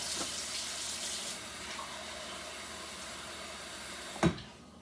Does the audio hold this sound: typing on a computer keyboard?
no